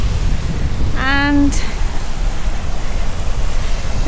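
Steady broadband rush of a waterfall in the Scottish Highlands along the NC500 route, continuous and fairly loud throughout, with a brief voice speaking over it near the start.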